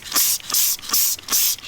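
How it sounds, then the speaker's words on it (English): Cleaner spray is pumped onto an Apollo 125 pit bike in four quick, loud, close bursts, each a sharp hiss separated by short pauses. "Just gonna spray a nice thick coat on everything that we see."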